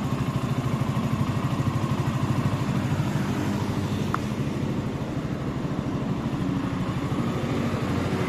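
A Suzuki Gixxer 150 Fi motorcycle engine idles close by with a steady, low, even putter that holds throughout without revving.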